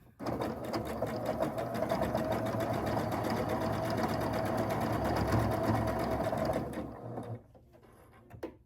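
Sewing machine stitching a quilt block, a close, steady rapid needle chatter running for about seven seconds, then cutting off, followed by quiet handling.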